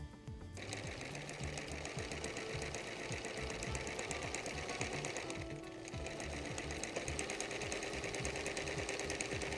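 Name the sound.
sewing machine stitching quilt binding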